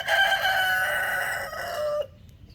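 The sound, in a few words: chickens, rooster crowing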